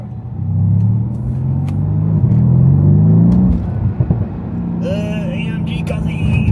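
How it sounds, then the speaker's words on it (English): Mercedes-AMG C63S twin-turbo V8 heard from inside the car, a loud deep rumbling drone that rises and falls with revs. People talk over the engine noise. "That's what V8 sounds like, bro."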